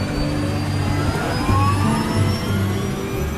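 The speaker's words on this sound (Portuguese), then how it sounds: "Mais uma vez, o engenheiro de voo tenta ligar o quarto motor." A four-engine airliner's jet engine, number four, spools up as the flight engineer restarts it in flight: a steady loud roar with a rising whine that climbs gradually over low rumbling, no voices.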